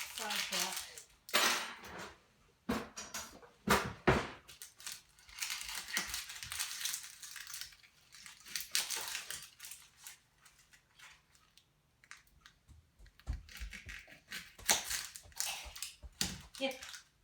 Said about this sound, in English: I peel my onions like I do my potatoes, people, so